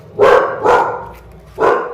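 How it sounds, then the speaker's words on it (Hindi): A pet dog in a home kitchen barks three times in loud, close bursts, two quick barks followed by a pause and a third. "जब भी मैं वीडियो बनाती हूँ इसको जरूर परेशानी होती है, ये एकदम भौंकना स्टार्ट हो जाता है इसका"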